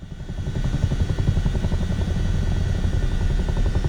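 A Chinook tandem-rotor helicopter in Microsoft Flight Simulator turning and losing speed, a loud continuous low rotor thump with rapid rhythmic chopping and steady engine drone throughout, no voices.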